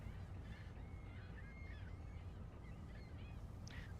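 Gulls calling out over the North Atlantic from a fishing boat, scattered high cries repeating every second or so above a steady low rumble of engine and sea, with one sharper call near the end.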